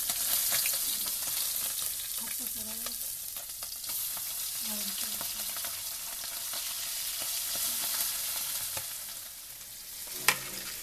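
Small fish sizzles and spits steadily in a hot oil pan, a constant close frying hiss with faint stirs and scrapes, and a sharp clunk near the end as a piece is turned over.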